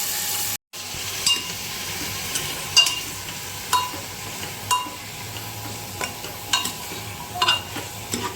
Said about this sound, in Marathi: मटण पण चांगलं परतून घ्यायचं